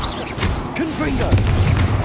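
A Confringo blasting spell explodes in Hogwarts Legacy amid a busy fight: low booms and crashing bursts under constant combat din, with a shouted voice over the top.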